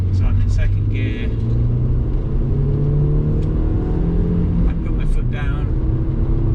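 A 2003 Audi TT 225 Quattro accelerates in second gear after an ECU flash, its engine a steady mid-pitched drone heard from inside the car under a voice, with no strong surge in pull.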